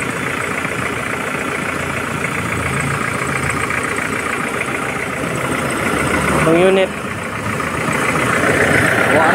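An Isuzu Trooper's 2.5-litre intercooled turbo diesel idles with a steady, clattering rumble while someone talks over it.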